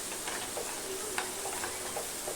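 Curd being stirred into a papdi vegetable curry in a pan, giving a soft steady sizzle with occasional light ticks and scrapes of the spoon, quiet and close.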